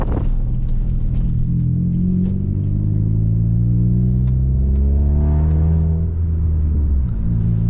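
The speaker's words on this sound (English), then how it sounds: "So, we'll be driving off to Belgium to get some coffee with this loud Hyundai Coupe." A loud Hyundai Tiburon coupe engine drones from inside the cabin while driving, rising steadily in pitch as it accelerates through a gear before settling, with constant low road rumble underneath.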